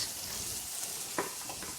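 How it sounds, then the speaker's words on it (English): Steady crackling sizzle of chicken breast frying in a hot pan, with a couple of brief soft knocks. "While it's sizzling for that 30 seconds"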